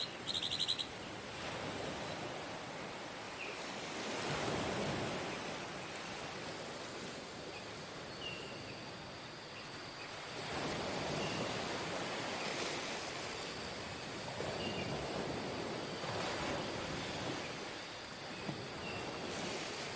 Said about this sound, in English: these waves